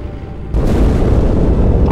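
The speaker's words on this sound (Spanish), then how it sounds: "Esa explosión provino del interior de la Atenas, igual que la Malta." An explosion aboard the ship Athens in the video game Halo 2 erupts as a deep, rumbling boom that rises suddenly and then sustains as a heavy, loud low roar.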